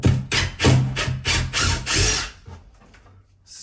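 Power tool backing screws out of a cut-through Sunrader camper shell, loud whirring bursts in quick succession with ratcheting mechanical texture, trailing off into quieter handling noise.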